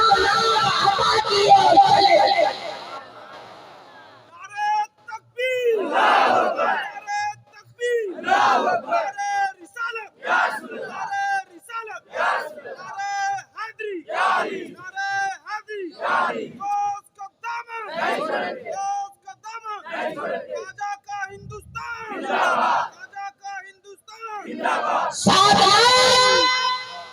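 A crowd at an Islamic religious gathering answering the Takbir call, loud repeated chanted responses in bursts between pauses, with a rising collective shout at the end.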